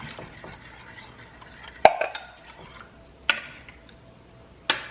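Baked macaroni and cheese mixture being stirred in a pot, with soft scraping and a few sharp clinks of a utensil against the pot at intervals, fairly quiet and close with no voices.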